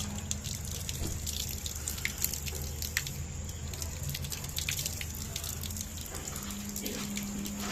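Water running from a tap, a steady trickling rush with small splashing drips, close and fairly quiet over a low background hum.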